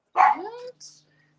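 A puppy gives one loud, near bark that slides into a short whine, followed by a brief higher yip, then near quiet.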